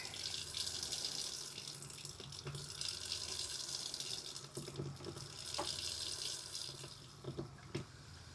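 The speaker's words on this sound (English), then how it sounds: "turn the water on so some fizzy comes out" Water runs steadily from an RV faucet, carrying a fizzy cleaning solution: a continuous hiss and splash, with a few faint clinks and drips standing out near the end.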